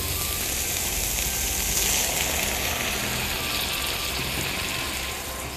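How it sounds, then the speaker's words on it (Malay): Steady loud sizzle and bubbling as a little water goes into a fern stir-fry, kampung-style fried paku pakis in a SENZ electric multicooker, hissing continuously up close with no talk. "Masukkan lagi sedikit air."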